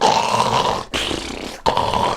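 A voice imitates loud snoring: two long, rasping, growly snores separated by brief breaths, close and harsh.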